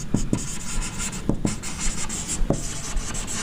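Short scratchy strokes of writing on a board come up close during a foundation engineering lecture. The strokes arrive in quick separate bursts with soft rubbing between them, and no one speaks.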